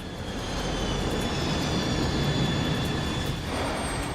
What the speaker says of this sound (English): Now the plane is dropping too quickly.